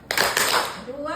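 Two sharp hand claps close together, followed by a voice speaking.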